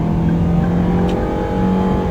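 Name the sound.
small car engine revving at high revs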